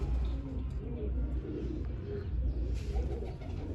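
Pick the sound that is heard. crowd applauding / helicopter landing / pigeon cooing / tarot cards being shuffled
pigeon cooing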